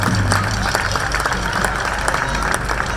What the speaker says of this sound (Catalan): Fortíssim el aplaudiment